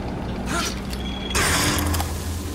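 Crane machinery in Bioshock Infinite gives off a steady mechanical creaking and grinding over a dense low rumble, with a heavier clank about halfway through.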